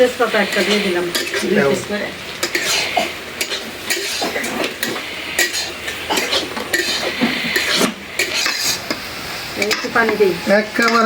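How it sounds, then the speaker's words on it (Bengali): Shol fish fries in hot mustard oil, a busy crackling sizzle mixed with the clink of a utensil stirring in the pan, with someone talking throughout. "লাল করে একেবারে লাল করে ভাজলাম"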